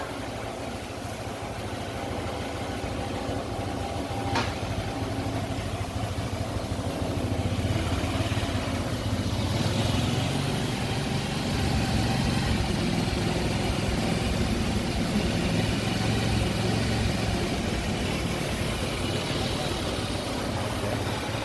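A motorcycle engine fitted with an aftermarket carburetor runs steadily during an RPM test, a continuous mid-pitched idle drone held at a fairly constant level throughout.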